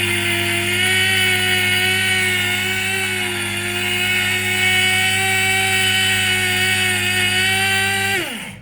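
A powerful mug grinder whirs as it grinds spices, a loud, steady high-pitched motor whine that runs unbroken for several seconds before abruptly winding down and cutting off.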